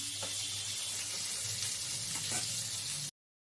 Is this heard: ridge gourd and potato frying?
yes